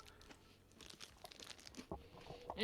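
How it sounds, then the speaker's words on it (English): Close crunchy munching and chewing of food, a run of irregular crisp bites and crinkles, fairly quiet, with no talking. "I hear the munching."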